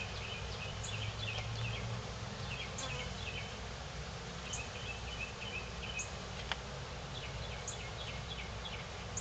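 Honeybees buzz in a dense, continuous hum during a beehive inspection, close and steady throughout, with faint birdsong chirping above the drone and no talking.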